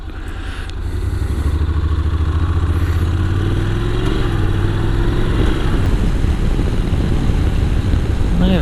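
A Honda NC750X DCT motorcycle is ridden on the road, its engine a steady low drone buried under heavy wind rush off the windscreen, loud and continuous throughout.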